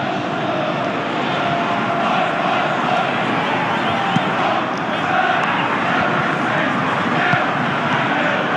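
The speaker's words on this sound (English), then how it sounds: "you can feel and hear how the crowd are reacting to all of this" Simulated stadium crowd in a Pro Evolution Soccer match, a steady loud roar of massed fans swelling slightly throughout, with no clear break.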